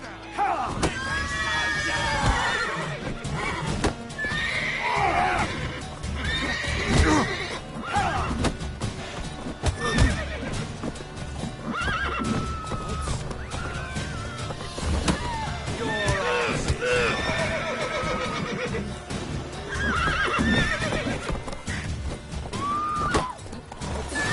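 Horses in The Witcher 3: Wild Hunt neigh and whinny loudly, several rising cries breaking out over a busy game mix of crashes, hoofbeats and shouting voices.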